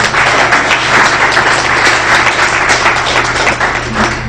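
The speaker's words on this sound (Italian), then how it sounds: "Un applauso al nostro dottore Claudio Cordova." Steady, loud applause from an audience at a cultural association evening, greeting Dr. Claudio Cordova; many hands clapping close and continuous with a low hum underneath.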